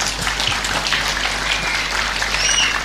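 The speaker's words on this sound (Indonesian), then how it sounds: "silakan kasih aplaus untuk Buya Rosi" Audience applause at a public religious lecture, a steady broadband patter of many hands clapping throughout, fairly close and even in level, with faint bird chirps in the background.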